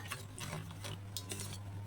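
A spoon stirs millet malt powder into water to break up lumps, giving quiet, quick scraping clinks against the vessel in a short, faint burst.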